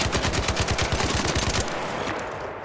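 A weapon in the ARC Raiders shooter game fires a loud, fast automatic burst of closely spaced shots that cuts off, leaving a fading tail.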